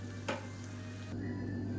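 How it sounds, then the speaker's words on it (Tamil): Tomato chutney ingredients sauté in a pan, giving a steady soft sizzle with one brief scraping stir near the start and no talking. "இப்போ எல்லாமே நல்லா வதங்கிருச்சு"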